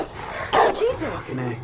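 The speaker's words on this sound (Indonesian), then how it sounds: "ada anjing yang menggonggong" A dog barks a couple of times, close and fairly loud, mixed with a voice speaking at the same time.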